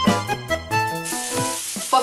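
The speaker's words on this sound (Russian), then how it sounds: "Я жарю с оливковым маслом" Cheese sticks frying in olive oil in a pan, a steady bright sizzle that rises after the first second, running beneath prominent tonal, music-like notes.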